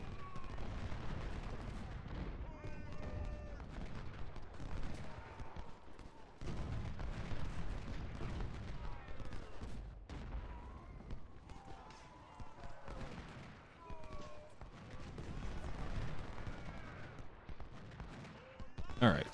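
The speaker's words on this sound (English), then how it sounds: "that artillery is getting shot up now" Artillery fire in an Ultimate General: Civil War battle, a dense, continuous rumble of cannon blasts and scattered gunfire running steadily throughout at moderate loudness, with voices faintly mixed in.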